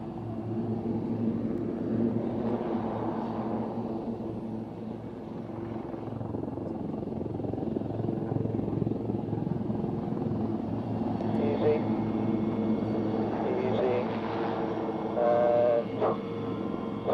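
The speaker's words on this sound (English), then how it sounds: "the aircraft now climb into position where we'll next see them nose offer and cross each other" Display aircraft climbing into position for a Twister manoeuvre, a broad distant engine roar that swells and fades over the whole span, with a commentator talking over it throughout.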